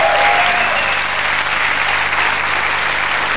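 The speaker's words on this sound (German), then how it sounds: "Ja, nochmal ein kleiner Applaus für unseren Fari." Studio audience applause on a 1999 RTL talk show, steady dense clapping from a full crowd, loud and continuous without speech.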